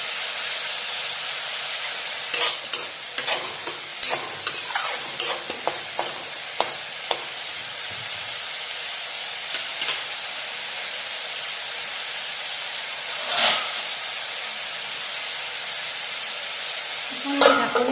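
Vegetables fry in a pan for veg Maggi noodles. A continuous close sizzling hiss with steam runs throughout, and a quick series of clinking stirs comes early, followed by a few scattered scrapes, with no talk.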